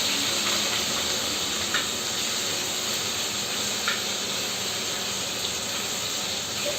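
A steady, loud hiss of curry leaves sizzling in hot oil while cooking raw jackfruit bhaji, crackling continuously without pause and with no voices.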